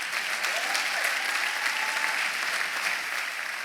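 A church congregation claps in steady, dense applause that fills the room evenly from start to finish.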